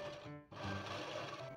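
Sewing machine running a straight seam along fabric for scrunchies, a steady close mechanical hum broken by one brief dip before the motor picks up again and continues.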